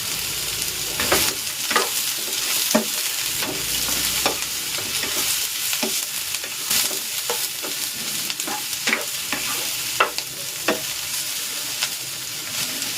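Cubes of tofu (tokwa) sizzle in hot oil in a pan while being stirred, a continuous crackling fry punctuated by regular scraping strokes of a spatula.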